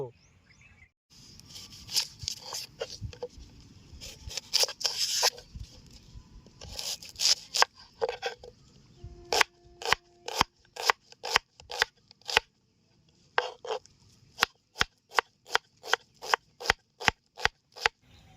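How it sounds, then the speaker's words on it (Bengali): A knife cutting onions on a board in a village kitchen, making a long run of crisp, close chopping taps that start irregular and settle into a steady, evenly spaced rhythm, with a brief quiet gap in the middle and a voice speaking now and then. "পেঁয়াজ কেটে নেবো।"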